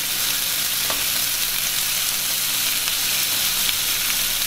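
Tomatoes with pepper fry in a pan over medium-high heat, giving a steady, close, continuous sizzle and crackle with no voices.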